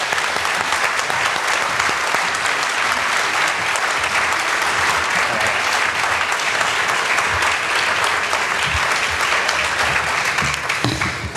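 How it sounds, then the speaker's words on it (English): Audience applause at a Massachusetts gubernatorial forum on workforce development, greeting candidates including Martha Coakley, Steve Grossman and Jeff McCormick as they come out; dense, steady clapping from a large crowd that fills the room for over ten seconds. "Let's give them a round of applause."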